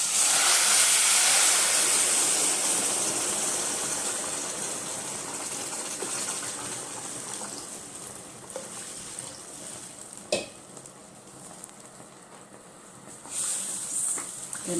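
Loud hissing and bubbling steam as water hits a hot pan of oil-coated rice, the burst easing off over several seconds into a quieter simmer with faint clinks.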